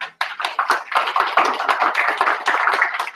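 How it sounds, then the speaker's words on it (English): Audience applause at a developer meetup in Tokyo, a dense burst of many hands clapping that starts after a brief gap and continues steadily and loudly to the end. "please give them big applause again"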